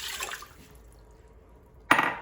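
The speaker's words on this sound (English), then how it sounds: "pour 1 cup of water" A brief splash of water poured into an Instant Pot, then quiet, followed by another short burst of pouring at the end.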